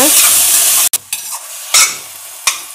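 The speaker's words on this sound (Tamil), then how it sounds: "கொஞ்சோண்டு உப்பு போட்டுக்கலாம் தக்காளி கரையிறதுக்காக" Tomatoes sprinkled with salt sauté in a hot pan for a Chettinad vegetable dish, giving a steady close sizzle broken by a brief near-silent gap and a few sharp stirring scrapes.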